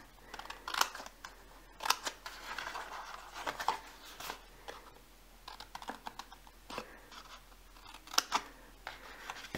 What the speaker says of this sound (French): je coupe un tout petit angle comme ça et je fais la même chose en face